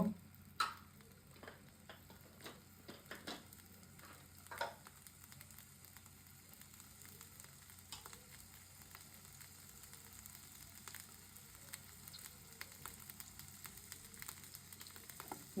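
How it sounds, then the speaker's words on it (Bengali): Potatoes frying in a pan with salt and turmeric, giving a steady, quiet sizzle that runs the whole time, with occasional light ticks and stirring clinks and no talking. "লবণ আর হলুদ দিয়ে আলুটাকে ভেজে নেবেন"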